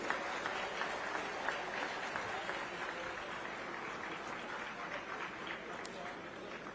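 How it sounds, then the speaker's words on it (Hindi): A large crowd at the inauguration of a tribal museum gives sustained, even applause, a thick continuous roar of clapping that holds steady throughout without pause. "जोरदार तालियों से स्वागत करें।"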